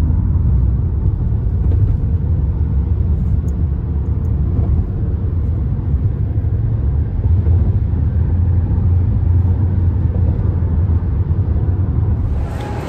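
A car driving through Waikiki, heard from inside as a steady low road rumble and engine drone that stays even for the whole stretch, with no talk.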